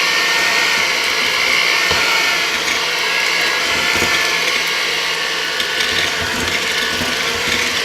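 An electric egg beater whirs loudly and continuously while mixing butter and sugar, a steady gear-driven grinding drone with slight shifts in pitch and no voices.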